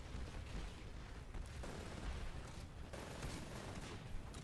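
Shotgun gunfire in the online shooter Titanfall Online, a faint, dense rumble of combat with bursts of shots blending into a continuous low roar throughout.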